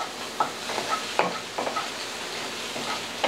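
Eggs poured into a hot pan with cooking sausage sizzle steadily up close, broken by soft scraping and stirring taps.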